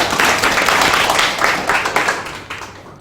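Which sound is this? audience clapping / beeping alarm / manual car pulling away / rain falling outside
audience clapping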